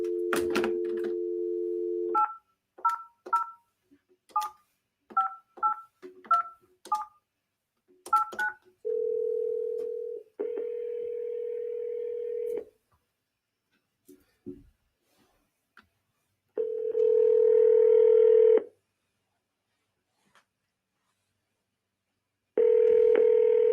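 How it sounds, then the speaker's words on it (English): A telephone call being placed: a dial tone, then a quick run of touch-tone keypad beeps, followed by several long ringback tones separated by silences, clear and close with no voices. "We're going to make a phone call."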